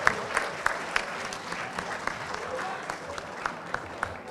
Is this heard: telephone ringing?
no